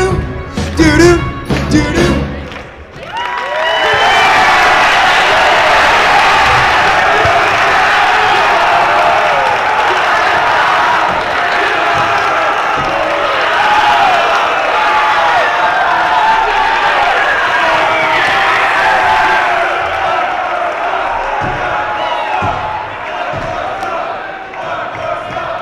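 A large talent show crowd at the Army and Navy Academy cheers, whoops and applauds loudly after some brief thuds, a dense roar of clapping and shouting that holds steady and then slowly eases toward the end.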